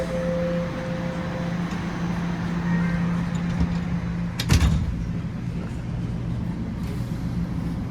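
A Toronto TTC subway train's doors close: a steady chime tone gives way to a single sharp thud midway. The constant rumble of the train car runs underneath.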